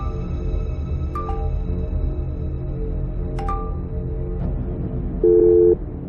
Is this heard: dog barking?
no